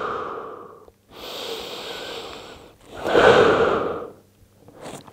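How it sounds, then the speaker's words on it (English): Slow, deep belly breaths during a lower-back stretch: a long audible exhale, then a drawn-in inhale and a stronger, louder breath, each separated by brief pauses, close and unaccompanied by talk. "Big deep belly breaths again."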